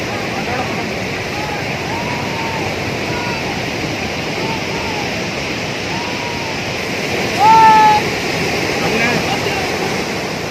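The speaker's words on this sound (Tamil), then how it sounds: "ஏரிக்கரை திடீரென உடைந்து காட்டாற்று வெள்ளம் போல் தண்ணீர் ஊருக்குள் புகுந்தது" Floodwater from a breached lake bank pours into a village in a continuous loud rushing roar like a waterfall, steady throughout, with a brief shout-like sound partway through.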